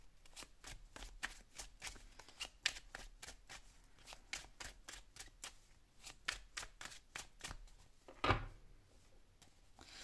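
Tarot cards are handled and laid out in a row for a cross spread: a quiet, quick series of crisp snaps and slaps at a regular pace, with one heavier thump near the end and no speech.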